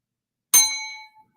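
A single bright notification bell ding, crisp and close, with a clean metallic ring that fades within about half a second, alone without talk.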